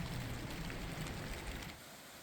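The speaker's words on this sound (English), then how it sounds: "Got my hood up. Got the cover on. It is raining." Steady rain patters on a raised hood and rain cover during a hike on a mountain trail in fall. The dense hiss is loud and close, holding even before easing slightly near the end.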